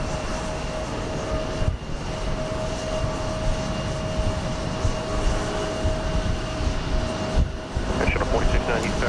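An airliner departs Houston Intercontinental on a flight to Guatemala City, giving a steady broadband engine roar with a sustained tonal whine that holds across the whole stretch, with brief dips in loudness.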